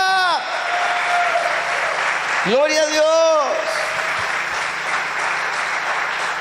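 Church congregation applauding during a Spanish-language Easter service, steady clapping running the whole time beneath a preacher's amplified voice shouting praise and ringing, reverberant tones.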